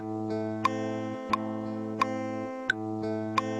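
A looping music phrase of sustained, buzzy synth tones, with a sharp click marking each repeat at a steady pace.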